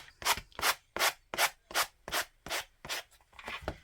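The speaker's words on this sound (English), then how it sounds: "And then I'm just going to take my sanding block." Steady back-and-forth rasp of a sanding block scrubbing the paper edges of a composition notebook, about ten even strokes in a regular rhythm, close up with no talking.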